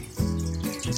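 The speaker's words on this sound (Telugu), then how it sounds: "తర్వాత బియ్యంకి సరిపడా నీళ్ళు పోసుకొని" Water pours from a tap or vessel into a pot to be boiled for cooking rice, a short steady gush heard close up.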